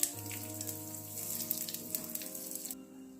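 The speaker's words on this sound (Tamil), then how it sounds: "கடுகெல்லாம் பொரிஞ்சிருச்சுங்க" Mustard seeds splutter and sizzle in hot oil in a pan for rasam, a busy crackle of small pops close by over a low hum, cutting off near the end.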